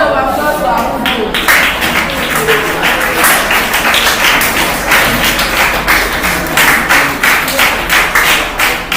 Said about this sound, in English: Please, a round of applause for Akudo again.